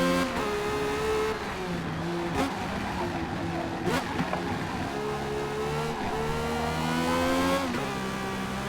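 Forza Motorsport in-game car engine, a generic Ferrari V12 sound, droning steadily with harmonic pitch shifts as it revs up and shifts, several brief bursts breaking through, some talk faintly underneath.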